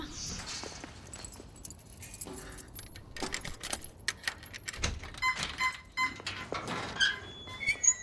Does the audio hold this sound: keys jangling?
yes